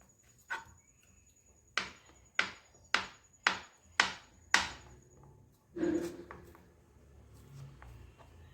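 Knife chopping paneer into small pieces on a board: a steady run of about six sharp, evenly spaced chops close by, after a single earlier cut, ending with a duller thud and a faint clatter.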